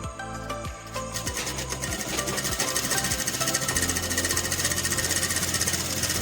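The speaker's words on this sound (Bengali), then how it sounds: "1/2 ইঞ্চি ছেড়ে আমি আবার একটা সেলাই দিয়ে দেবো" A sewing machine stitches a pillow cover, starting with a few slow separate thumps, then settling into a fast, loud, steady mechanical chatter heard up close, with no talk over it.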